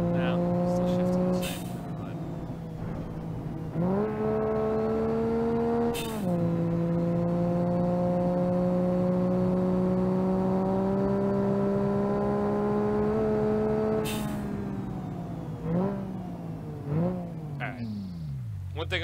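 Car engine in BeamNG.drive revving repeatedly during a rolling burnout attempt with a turbo six, pitch climbing and dropping across several rev cycles, fairly close and steady, with a voice talking over it.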